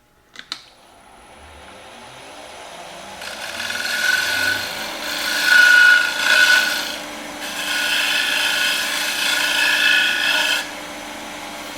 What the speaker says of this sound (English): A little shear scraping.